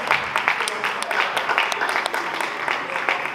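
Audience applause at a comedy show at a Jakarta festival, a brief patter of scattered clapping under a voice.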